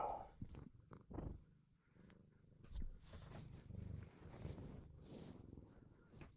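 A female cat purring close by, a soft, low rhythmic rumble in a quiet room with faint breathy noise, no speech over it.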